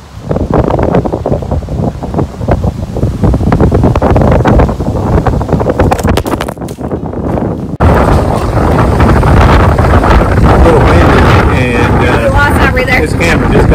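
Strong wind buffets an outdoor microphone with loud roaring gusts, then a sudden thump and rustle as the camera blows over, continuing gusty noise afterward, at an outdoor table by Marshall Street Bar and Grill in Rochester.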